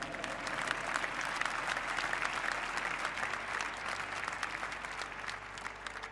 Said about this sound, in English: Please give an applause to the 2nd and 3rd place, Team Falcons and Team Vitality.